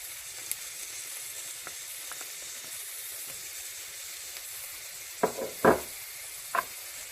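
Ginger garlic paste sizzles in hot oil in a pan over turned-down heat, a steady crackling hiss with a few loud knocks and bursts near the end.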